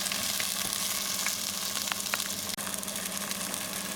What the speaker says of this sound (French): on ajoute la badiane, le poivre de Sichuan et les 2 piments. Et on mélange tout ça.